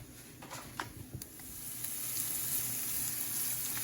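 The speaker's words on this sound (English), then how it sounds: "I'm gonna just let this saute up some" Bacon and onions sauté in a pan with a quiet, steady sizzle and a few soft stirring pops near the start.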